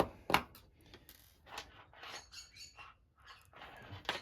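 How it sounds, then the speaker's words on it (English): Sharp, chirpy calls from pet birds burst out indoors in several quick bouts, with one loud squawk near the start and another at the end. "My birds are just acting up so much today."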